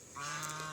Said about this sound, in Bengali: দেখি সামনে ওই যে রাজহাঁস দাঁড়াই আছে